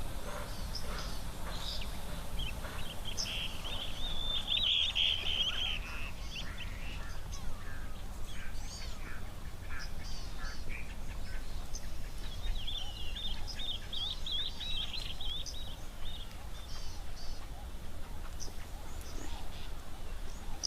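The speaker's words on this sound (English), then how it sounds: "I've got the call here of the swallow-tailed bee-eater that I will play for you." Bright, cheerful chirping calls of a swallow-tailed bee-eater repeat over steady background noise, fairly close and moderately loud.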